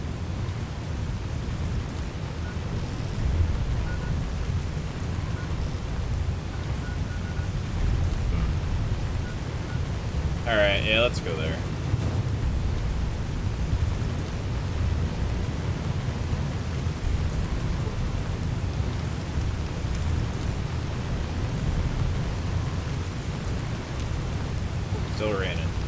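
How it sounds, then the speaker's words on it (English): Steady loud rain in the game Fallout: New Vegas, a continuous broadband hiss with low rumble running unbroken throughout, with someone briefly talking over it and a short chirping game sound near the middle. "Oh, the very loud rain is back."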